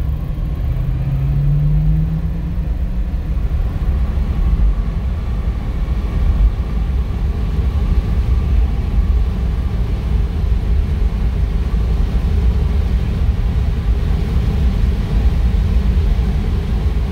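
A 1963 Oldsmobile Jetfire Turbo hardtop pulls away, its engine rumbling steadily and fairly loud in a low, continuous drone that holds evenly throughout with no talk.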